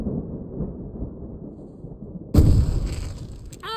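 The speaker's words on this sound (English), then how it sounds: "I can set off more of the fireworks from here and help you out!" A firework bursts in Alan Wake Remastered, a loud sudden boom breaking a low dark rumble, followed by crackling and a rising whistle near the end.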